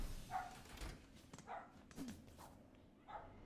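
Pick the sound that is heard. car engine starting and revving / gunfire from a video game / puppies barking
puppies barking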